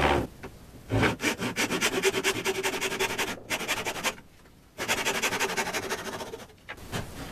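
Handsaw cutting through a wooden dowel braced against a small backstop on a bench, steady rasping back-and-forth strokes close by, with two brief pauses between runs of sawing.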